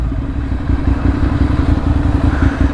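A KTM Duke 1290 V-twin motorcycle engine runs close by with a loud, steady, throbbing low rumble and some mechanical clatter. No voices.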